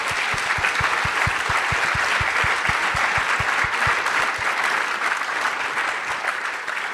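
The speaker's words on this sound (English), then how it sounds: "So please give them a huge applause from the public." Sustained audience applause fills a conference main-stage hall after a panel, dense and steady throughout with a rhythmic low thumping underneath, fading slightly near the end.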